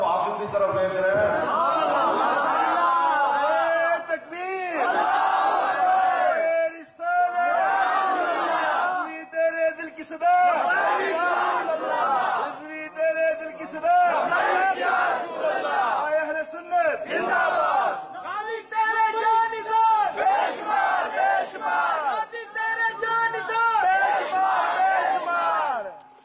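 A large crowd at a religious rally in Pakistan chants slogans together in loud, continuous waves of massed voices, with rhythmic call-and-response surges and brief pauses over about twenty-six seconds.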